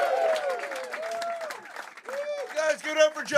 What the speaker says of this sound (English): Start clapping right now for Maxwell Schenker, everybody.